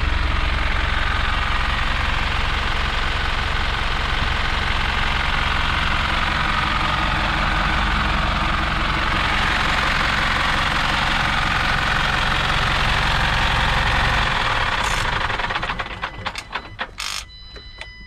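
A Mercedes-Benz OM934 LA diesel engine idles in an Optare Solo SR bus, a steady low rumble holding for about fifteen seconds before fading, followed by some clicks and knocks near the end.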